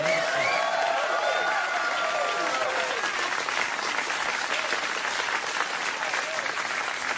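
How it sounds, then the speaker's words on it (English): A studio audience applauds, a dense, steady wash of clapping that carries on throughout, with someone talking over it at the start. "I don't know why you're clapping."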